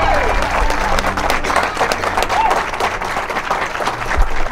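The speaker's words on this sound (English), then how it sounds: "Can we hear applause again" Crowd applause at a red carpet premiere honoring a war hero, dense clapping and cheering throughout with a voice talking over it.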